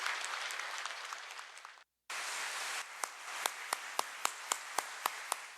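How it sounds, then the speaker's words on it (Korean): Dense applause fills the room at a Korean church worship service, breaks off for a moment, then resumes with scattered sharper individual claps standing out near the end. "감사와 격려의 박수를 보내주시기 바랍니다."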